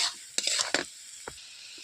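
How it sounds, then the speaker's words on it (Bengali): Red amaranth stems being stirred in a pan, a few short scraping strokes spaced apart over a faint background sizzle, close and fairly quiet. "ঢাকা খুলে দেখলাম সবজিটা ভালো করে সেদ্ধ হয়ে গেছে এবার ওপর নিচ করে আর একবার নেড়ে নিয়ে"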